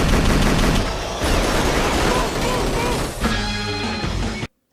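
Sustained automatic gunfire from a movie shootout, dense rapid bursts and loud crashing impacts filling nearly five seconds before cutting off abruptly to silence.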